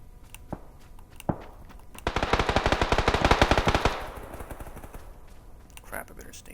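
M16 rifle fire in the PUBG video game: a rapid burst of about two seconds of loud automatic shots, framed by scattered single clicks and footsteps before and after.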